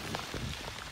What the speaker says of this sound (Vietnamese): Trời mưa quá, mưa quá thì điện thoại nó cũng ướt luôn.